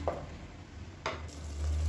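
Masala sizzling in oil in a pan, a soft steady fry hiss broken by two brief scraping stirs of a spoon, close and fairly quiet.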